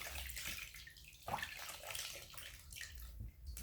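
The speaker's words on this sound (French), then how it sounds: "Et puis, je vais rincer." Water runs and splashes over skin as a body scrub is rinsed off at a sink or tub, a faint, uneven rushing with small slaps and drips.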